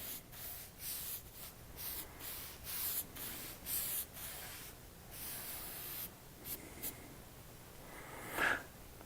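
Brush strokes applying a coat of paint or varnish in a kitchen project, heard as a steady run of soft, close swishing strokes with brief pauses, alone without talk.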